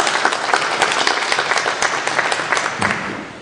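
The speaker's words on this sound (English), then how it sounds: "let's give them an applause" Audience at a local candidate forum claps together, a dense burst of many hands that holds steady and then thins toward the end.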